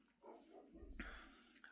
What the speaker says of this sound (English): dogs are barking outside.